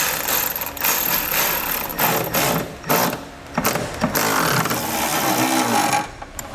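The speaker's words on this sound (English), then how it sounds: "Next, we'll take our 13mm socket. We're going to tighten all of our brackets down." A ratchet with a 13mm socket tightens step bracket bolts on a 2017 GMC Sierra 2500, giving rapid clicking strokes in uneven bursts, close and fairly loud, with a low engine-like rumble beneath.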